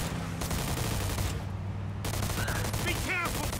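Rapid gunfire from a car chase shootout in the video game Mafia II Definitive Edition, dense repeated shots over a constant engine drone, with brief gaps between bursts.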